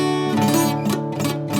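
A guitar chord strummed with badly fretted, muted strings rings briefly with a harsh, buzzing, choked tone, close and alone for under two seconds.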